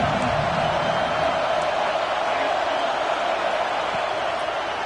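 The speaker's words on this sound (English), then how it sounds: "This crowd ready to make its presence known." Stadium crowd in the College Football 26 video game, a dense, steady roar of many voices at constant loudness that holds throughout.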